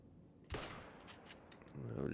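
Single sharp gunshot while hunting in the Yukon, a sudden loud crack followed by a brief echoing tail, then low rustling and faint movement noise.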